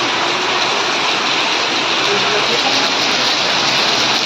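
Heavy stormy rain pours down in the evening, a loud, dense and unbroken hiss of downpour that fills the whole stretch evenly, with no voices over it.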